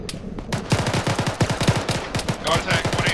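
Rapid automatic gunfire in a military video game, fast bursts of close shots rattling in quick succession, with faint voices underneath.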